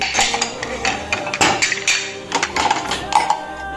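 Pots, pans and metal utensils clatter and clink in a home kitchen while tea is put on to brew, a busy run of sharp knocks and scrapes close by with no talking.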